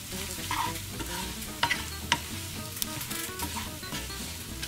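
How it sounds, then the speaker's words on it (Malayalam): A spoon stirs Kerala-style beef fry with a pinch of asafoetida in a pan, close up: steady sizzling and frying under repeated scraping strokes, with a few sharper clinks against the metal and no voices. "കായം ഇട്ട് കൊടുത്തതിന് ശേഷം 5 മിനിറ്റ് നന്നായിട്ട് ഇളക്കി കൊടുക്കണം"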